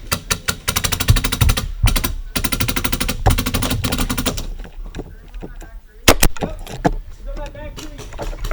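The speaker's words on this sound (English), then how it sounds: "I don't know where those shots are coming from." Bursts of rapid automatic gunfire in a shooter video game, loud and close, with dense rattling volleys for several seconds, then scattered single shots and sparser sounds as a voice talks over them.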